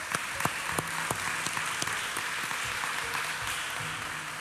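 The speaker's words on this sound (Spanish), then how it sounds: "Denle un fuerte aplauso al Señor." A church congregation gives a sustained round of applause, dense and even throughout, with a few sharper individual claps standing out near the start.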